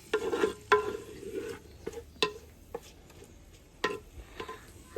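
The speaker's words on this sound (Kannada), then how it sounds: "ಫಸ್ಟ್ಗೆ ಎಣ್ಣೆ ಬೊಕ್ಕ ತುಪ್ಪದಿದು ಐಕ್ ಈರುಳ್ಳಿ ಟೊಮೆಟೊ ಕಾಯಿ ಮುಂಚಿ ಬೊಕ್ಕ ಬೇವರ ಸೊಪ್ಪು ಶುಂಠಿ ಈತೇನ ಫಸ್ಟ್ ನಮ್ಮ ಸರಿ ಫ್ರೈ ಮಲ್ಪೊಡುದೆ" Onion, tomato, chili, curry leaves and ginger frying in oil and ghee, heard as a steady sizzle broken by sharp, irregular clacks of a spoon stirring against the pan.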